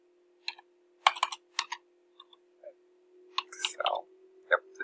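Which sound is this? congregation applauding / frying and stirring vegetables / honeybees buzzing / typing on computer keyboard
typing on computer keyboard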